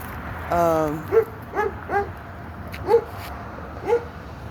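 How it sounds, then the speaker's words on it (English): Dogs behind a fence bark several times in short, spaced yelps at moderate distance, with a whine at the start and a faint background rumble. "Not unlike the dogs behind the fence, barking themselves hoarse."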